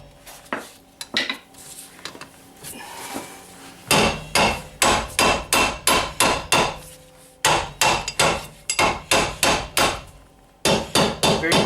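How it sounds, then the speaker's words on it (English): A hammer striking a vehicle's brake assembly during a full inspection, sharp metallic blows in quick rhythmic bursts, loud and close, with a few scattered knocks before the steady series begins. "you can see it kind of loosens up quite a bit with the hammer."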